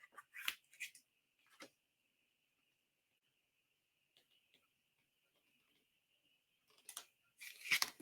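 Scissors snip through paper while trimming a piece for a card, a few short quiet cuts at the start and a denser cluster of snips near the end, separated by a long near-silent stretch with a faint steady whine.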